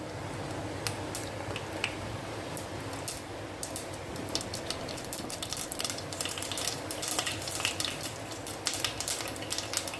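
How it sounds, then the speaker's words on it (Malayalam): Mustard seeds pop and splutter in hot coconut oil in a pan, a steady run of sharp crackles and snaps over a low sizzling bed, close and fairly quiet, with no voices. "കടുകൊന്ന് പൊട്ടുമ്പോൾ"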